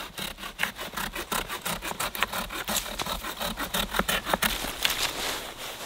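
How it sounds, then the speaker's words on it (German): Close, rhythmic rasping of a Due Cigni folding hand saw cutting through wood, a steady run of quick back-and-forth strokes with no talking. "Und jetzt wollen wir die mal mit der Säge so richtig fein absägen."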